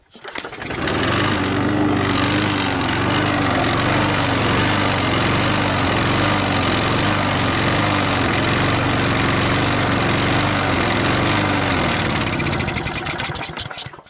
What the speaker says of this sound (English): It ran for a bit, but that was on the WD-40.